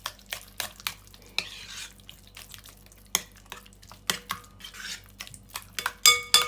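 A spoon stirs a Tunisian tajine mixture with grated cheese in a pot, making irregular scraping and clinking strokes against the vessel with brief soft pauses between them, close and fairly quiet.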